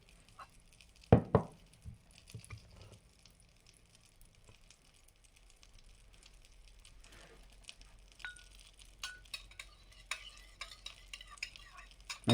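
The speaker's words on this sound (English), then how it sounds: "I'm gonna mix up these eggs" A butter knife whisks eggs in a bowl for a tuna omelet, giving faint, quick scraping and clinking strokes close by, with one louder knock near the start and soft kitchen background throughout.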